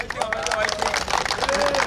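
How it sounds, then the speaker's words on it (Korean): A ceremonial audience claps loudly at a celebration marking the selection of a site for a medical school hospital in Suncheon, dense rapid clapping mixed with crowd chatter and a few raised voices throughout. "박수 좀 크게 쳐주십시오"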